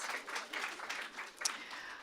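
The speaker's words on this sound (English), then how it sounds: "Let's clap her out" Fairly faint audience clapping in a conference hall as a UN special rapporteur leaves the stage, a steady patter of many hands lasting two seconds.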